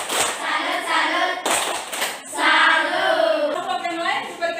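A classroom does a rhythmic 'tepuk salut' clap for a group, sharp hand claps in quick bursts mixed with voices chanting along, close and lively.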